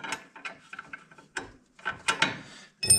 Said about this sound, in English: And we're going to tighten up this number 11.